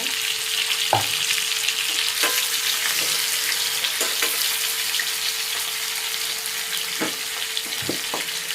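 Pieces of chili-coated pomfret fish fry in a pan, producing a continuous close sizzle with occasional sharp pops and faint clinks, with no talking over it.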